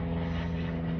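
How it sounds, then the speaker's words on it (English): A steady droning aircraft engine rumbles overhead as a plane passes, low and continuous, with no talking. "Sorry, I want to let that plane pass."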